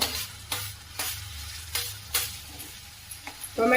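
Onion and tomato sauté in a pan for potato bhaji. A low, steady sizzle runs under the whole clip, cut by several sharp scrapes of a spoon against the pan, spaced roughly every half second, with no voices.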